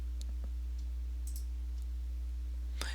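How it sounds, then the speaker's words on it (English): Soft, sparse mouse clicks at a computer while working in Microsoft Excel, a few faint isolated ticks over a quiet electrical hum, with a slightly louder click near the end. "I'm going to go ahead and click Finish."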